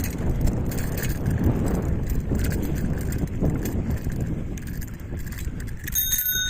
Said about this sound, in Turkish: Bu da bisikletimin zilinin sesi.